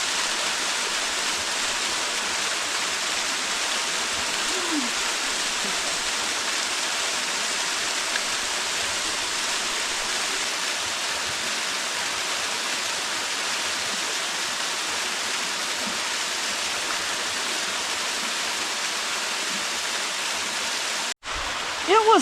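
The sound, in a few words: small waterfall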